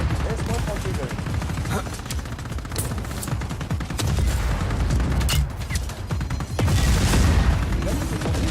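Dense, continuous gunfire and booms from enemies in the video game Just Cause 4, loud and layered throughout, with a voice talking over the shooting.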